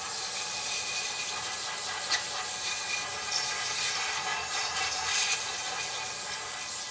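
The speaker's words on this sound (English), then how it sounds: "Now I'm just going to spray that." A steady, faint hiss of throttle body cleaner sprayed onto the throttle body of a 2003 Cadillac CTS, a continuous airy spray lasting several seconds with no talking.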